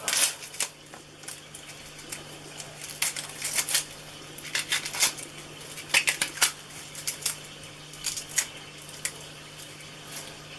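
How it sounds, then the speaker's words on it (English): An onion's tough outer skin being peeled off by hand, with a run of dry crackling, crinkling rustles and small taps close up and irregular, no voices. "I always take the first layer of the onion skin off because sometimes it can be a bit tough to cut."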